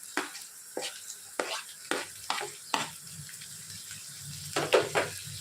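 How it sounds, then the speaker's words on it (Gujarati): Chopped onion being cooked in a hot pan gives sharp, evenly spaced scraping strokes from stirring over a soft sizzle, with a louder clatter near the end, close and fairly quiet, with no voices. "ત્યારબાદ હવે આપણે ચોખ કરેલી ડુંગળી ઉમેરશું"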